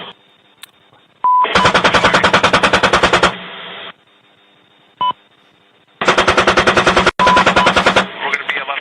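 30 mm aircraft cannon firing in two long, rapid ripping bursts, each about two seconds, loud and close, with radio beeps and clipped transmission tones between them.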